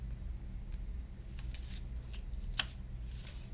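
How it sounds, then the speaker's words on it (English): A few paper slips are shuffled by hand at a tarot reading, producing soft, quiet rustles and brief crisp flicks at irregular intervals over a low background hum, with no talk. "it's hard to shuffle 3 papers, let me tell you"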